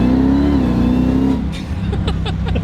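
An 805 whp Jeep Trackhawk's engine runs loud and close, with a sustained high-rpm drone that drops briefly and then breaks into a choppy, burbling rev as the driver downshifts.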